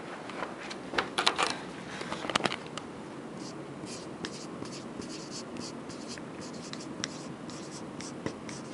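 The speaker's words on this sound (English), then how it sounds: "Let me just write that down real quick." A marker scratches across the pages of a notebook in quick, uneven bursts of scribbling strokes, close and fairly quiet, with brief pauses between lines.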